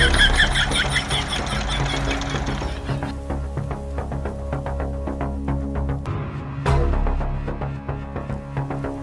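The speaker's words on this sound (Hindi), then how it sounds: "अरे यार, मेरे ट्रैक्टर की आवाज।" A tractor engine chugs steadily with a rhythmic knocking beat, close and loud, with a brief surge partway through and no talking.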